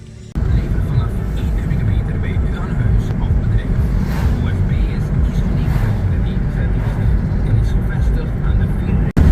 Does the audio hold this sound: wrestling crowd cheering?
no